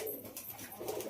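Pigeons coo in a loft, low soft murmuring calls rising at the start and again near the end over a faint steady background hiss.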